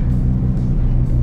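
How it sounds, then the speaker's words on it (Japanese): A Toyota Supra JZA80 with a tuned 2JZ engine, aftermarket cams and a TO4Z full turbine kit, making about 650 horsepower, idles with a steady, deep, loud rumble that stays even and close throughout. "このアイドリングマジでかっこいいわ"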